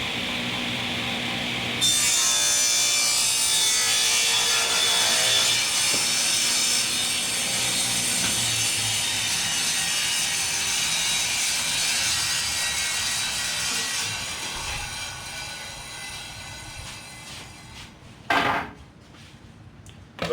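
A wooden piece is cut on a saw guided by a miter gauge, a sustained loud rasping whine of the blade through wood lasting most of the clip, then spinning down with a few clunks at the end.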